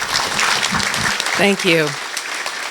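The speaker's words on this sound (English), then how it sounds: "I'd like to give a big round of applause for her accomplishment" Audience applause at a Republican dinner in Monticello, Iowa, forms a dense clapping wash throughout, while someone speaks a few words over it near the middle.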